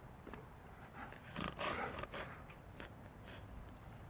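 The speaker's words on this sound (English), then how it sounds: "Oh, big puppy. Big puppy." A big puppy dog named Lucky pants close up, with quick, breathy huffs that swell in the middle and ease off, with no voices over them.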